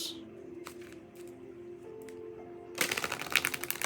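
Tarot or oracle cards riffle together in a quick, crisp flurry of rapid flicks after a few soft handling sounds, close and fairly quiet.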